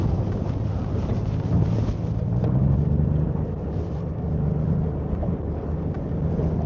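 Brisk wind blows across a fishing boat while trolling, a loud, steady rush and microphone buffeting over a low background rumble, with no talk.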